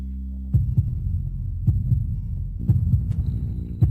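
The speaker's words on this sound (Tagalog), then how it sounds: "Sa nababanggit si Gumingyu ay bumibilis ang tibok ng puso mo." Heartbeat sound effect thumping in deep paired beats after a low hum, the double pulses repeating and growing more insistent, close and alone.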